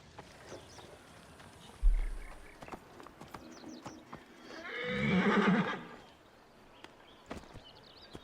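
Horse in Assassin's Creed Origins whinnying in a loud, drawn-out neigh midway, preceded by a thud and scattered clip-clop hoofsteps and small in-game noises, no talk.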